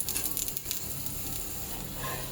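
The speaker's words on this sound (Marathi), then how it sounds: "आता गॅसवरती तवा ठेवलेला आहे, तेल टाकूया." Radish-stuffed paratha frying in oil on a hot tawa over a gas flame, a steady soft sizzle with faint crackles, close and quiet, no voices.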